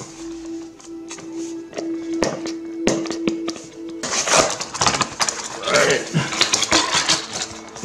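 A Belkin wireless charging pad box torn open up close: scattered taps and cardboard clicks, then a louder stretch of ripping, crinkling packaging and rustling handling, with no speech.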